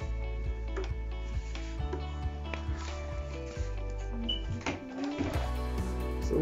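A sewing machine backstitches over the end of a seam closure to lock the stitches, giving a steady close mechanical whir with rapid rhythmic stitching pulses that run without a break.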